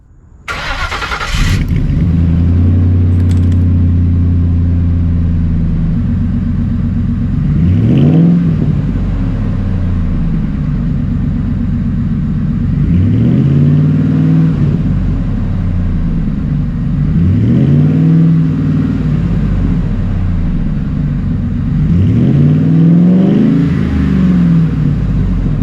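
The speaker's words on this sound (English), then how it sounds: "Now let's listen to the sound of the muffler." A Ford F-150 idles through a newly installed muffler and exhaust pipe fitted at a muffler shop, a loud close rumble after starting, with four separate revs rising and falling over a steady idle.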